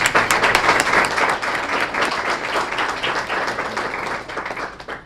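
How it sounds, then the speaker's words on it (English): Applause fills the room at a school Student of the Month event, a dense, steady wash of clapping from many hands that holds, then gradually thins and fades out. "Let's give them a round of applause."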